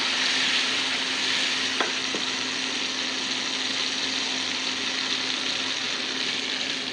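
Tamarind broth with crushed curry leaves boils and sizzles in a pot for dal, a continuous close bubbling hiss with a faint tap partway through.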